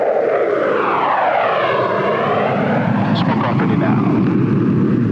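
A USAF F-16 jet fighter of the Thunderbirds demonstration team roars through a maximum climb from ground level, a loud continuous jet blast with a sweeping pitch shift as it passes and climbs away, under a narrator's voice.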